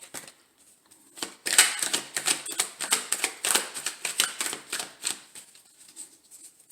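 Tarot cards riffled and shuffled in a rapid run of crisp, papery clicks and flutters, close and fairly loud, with a few single card snaps as cards are drawn near the end.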